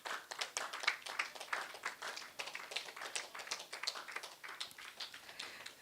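A standing audience at a cadet company gathering claps in a scattered, uneven way, with individual hand claps clearly separable. The clapping is fairly close and moderately quiet, and no speech is heard.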